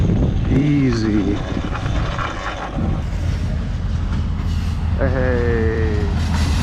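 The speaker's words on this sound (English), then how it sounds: "Hey, we got the train." A train passes close by with a loud, steady rumbling roar that holds for several seconds, while someone talks over it at the start and end.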